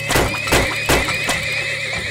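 Horses neighing in the video game Turmoil, a few sharp whinnies in quick succession with light hoof clatter beneath a constant tonal game drone, loud and close.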